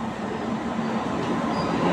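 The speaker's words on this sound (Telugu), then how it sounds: "ట్రైన్ వచ్చేస్తోంది." A train, the Guntur Express, pulls into a station with a continuous close rumble and a faint steady tonal hum from the wheels, growing slightly louder as it nears.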